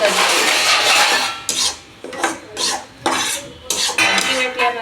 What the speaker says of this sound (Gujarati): તો લોટ શેકા દેવો પર એકદમ ધીમા તાપે